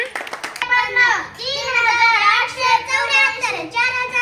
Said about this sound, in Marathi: सगळ्यांच्या टाळ्या पडल्या पाहिजेत